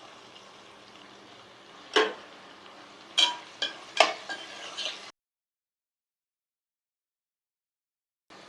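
Onion pieces fry in a pan with a soft, steady sizzle and several sharp utensil clanks over about five seconds, then the sound cuts to silence.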